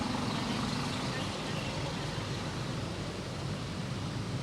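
A jammed Surabaya street clogged with trucks and cars: a dense, steady wash of engine rumble and road noise, with no single vehicle standing out.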